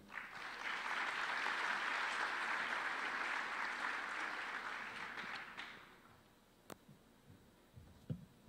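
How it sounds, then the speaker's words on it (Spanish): A student induction audience gives sustained applause to welcome speakers onto the stage. The clapping stays dense for about six seconds, then stops abruptly, leaving room noise and a couple of sharp knocks. "les demos la bienvenida también con un aplauso."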